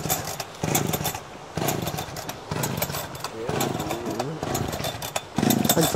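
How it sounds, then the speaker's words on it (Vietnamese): A power saw cutting wood runs in strained, uneven bursts, bogging down and surging again as the cut struggles, loud and close throughout with no one talking. "đang gặp trục trặc về cái máy cưa này. Cưa mãi không được."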